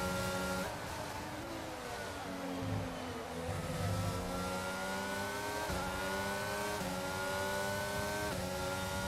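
F1 race cars at the start of a race in the video game F1 22, a dense layered whine of high-revving engines climbing and shifting through gears, loud and continuous with overlapping cars.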